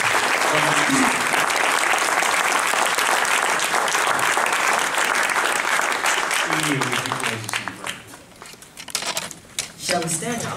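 An audience at a church gathering gives a round of applause, a dense, loud clapping that tapers into scattered claps toward the end.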